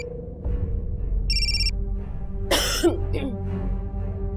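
A phone rings with a short electronic trill, followed by a cough and a throat clearing over a low steady hum.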